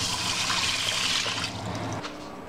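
Water and round-grain porridge rice poured into a pot for Norwegian rice porridge, a steady splashing rush that eases off after about two seconds.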